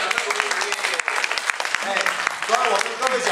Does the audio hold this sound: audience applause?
yes